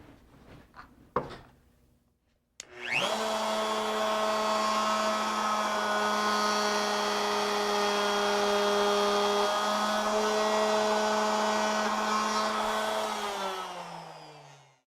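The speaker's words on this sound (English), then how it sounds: "we're simply going to slide the router back and forth between the stops at 4 3/4 and 2 inches" A handheld wood router cuts wooden stock, sliding back and forth between stops, a loud steady high-pitched motor whine with a cutting rasp that starts abruptly after a few clicks and runs continuously before winding down at the end.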